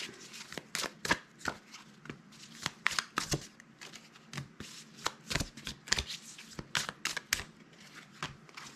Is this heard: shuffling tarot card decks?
yes